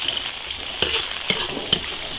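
Celery frying slowly in oil over low heat alongside ginger and onion, a steady soft crackle with a few sharp ticks and clinks from stirring, close and continuous.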